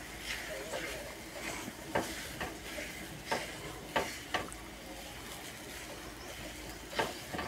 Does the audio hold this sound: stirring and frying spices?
yes